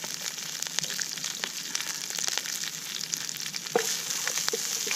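Sea beet, rose hips, wild garlic and chives fry in a pan with a continuous close sizzle, broken by occasional clinks and scrapes of stirring.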